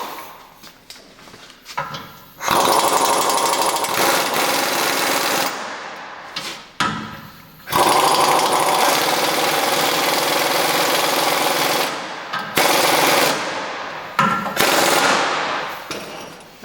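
A power tool drives the bolt on a self-centering torsion bar leveling block of a Chevy 2500 truck, running in long loud mechanical rattling bursts with short gaps and a few brief stops and restarts, close up.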